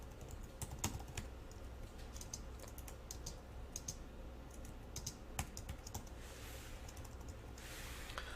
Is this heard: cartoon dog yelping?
no